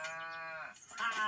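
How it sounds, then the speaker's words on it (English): A cartoon cow named Priscilla gives one long, loud, close moo that slides down in pitch, with a brighter bleating tail at the end, alone with no talk. "Nice cow."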